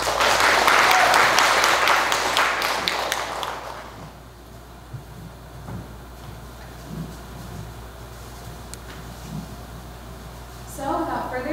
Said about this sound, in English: let's give a round of applause and warm welcome to our incredible speakers